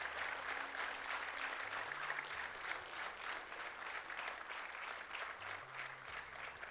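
Applause from the audience at an annual convocation ceremony, honouring the graduates: a broad, sustained wash of clapping from a large crowd, fairly distant and even throughout, with no voices over it.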